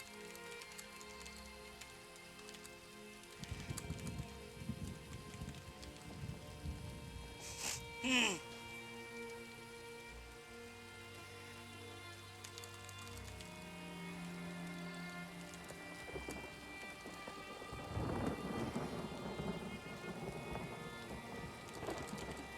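Steady rainfall with a rumble of thunder in the Elder Scrolls Online game world, a sharp crack near the middle, while a character speaks over the continuous downpour.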